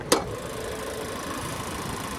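Low, steady hum of a GMC Terrain AT4's 1.5-liter turbocharged four-cylinder idling, with a faint rhythmic tick, opened by a brief sharp click near the start.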